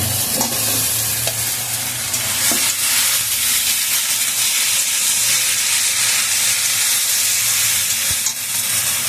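Potatoes fry in hot spiced oil for an ilish-begun dish, making a loud continuous sizzle and steamy hiss with occasional close clinks of a stirring utensil.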